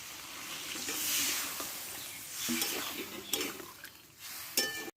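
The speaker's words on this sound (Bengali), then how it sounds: "এবার আমি জলটা দিয়ে দেবো" Water hits a pan of spice-fried mixed vegetables and sets off a loud hiss and sizzle that fades as it settles, with a few clinks of a utensil near the end and no talking.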